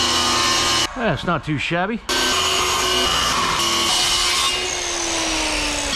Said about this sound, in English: I'm going to cut it out with a circular saw